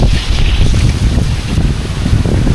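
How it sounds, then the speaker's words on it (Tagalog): Strong typhoon wind roars loud and close, buffeting the microphone in a constant, rumbling rush with no speech. "Lakas ng hangin nila."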